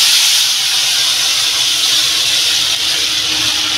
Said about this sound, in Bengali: আমি এবার তরকারিটা ঢেলে দেবো।